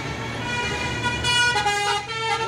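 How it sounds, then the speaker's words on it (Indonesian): A tour bus passes on a hilly road in West Java, its engine and tire noise swelling and fading steadily at close range, with no talk over it. "ini ada bus lagi nih, bus pariwisata."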